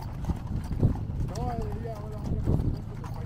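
A horse's hooves strike in a few dull, spaced clops at an outdoor family celebration in Tula, Tamaulipas, heard under talking voices.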